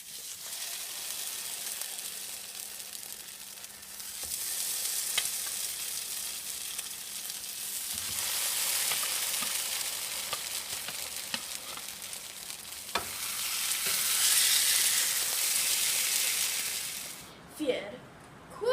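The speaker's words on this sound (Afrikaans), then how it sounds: "Plaas hulle in die verhitte pan." French toast, sliced bread soaked in an egg mixture, sizzling and frying in a heated pan, a steady close crackle that swells and eases, with light clatter near the end.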